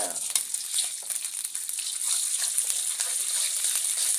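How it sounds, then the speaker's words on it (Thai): Curry paste is stir-fried in a pan for a holy basil dish with small fish. A bright, hissing sizzle rises and settles into a continuous close crackle, with scattered stirring scrapes. "ผัดพริกแกงอีกแล้ว"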